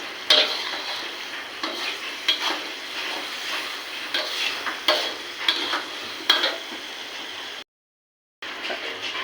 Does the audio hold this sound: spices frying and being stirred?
yes